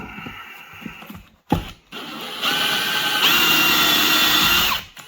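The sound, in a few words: drill bit grabbing and pulling out a stuck part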